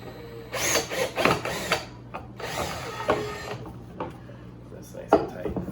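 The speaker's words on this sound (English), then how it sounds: "push it through with the drill" A power drill drives a loose knob into a wooden drawer on a nightstand kit, giving short bursts of whirring and ratcheting close by, separated by quiet handling noises.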